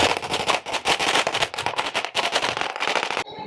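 Firecrackers going off outdoors in a rapid, continuous string of loud close cracks and pops that lasts about three seconds and then stops abruptly.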